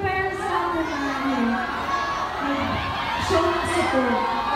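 Crowd of fans at a fan meet cheering and shouting, high excited voices rising and falling together in a steady loud wash, with talk mixed in.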